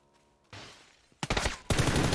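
Gunfire in a competitive Counter-Strike Wingman match: a faint opening, then a softer shot and two loud, close bursts of rapid fire in quick succession.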